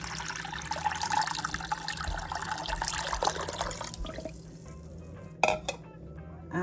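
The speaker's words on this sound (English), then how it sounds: "in this bowl, I'm going to be adding the 400 milliliters of water" Steady rush of 400 milliliters of water poured into a mixing bowl for about four seconds, then quieter with a sharp clink near the end.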